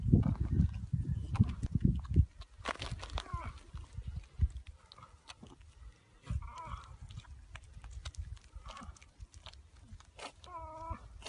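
A ewe with her newborn male lamb, giving soft bleats and rising calls amid rustling, shuffling hooves and handling noises at close range, with people talking nearby.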